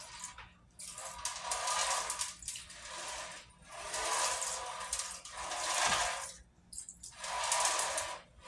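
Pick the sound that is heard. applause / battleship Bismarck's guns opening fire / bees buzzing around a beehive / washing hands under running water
washing hands under running water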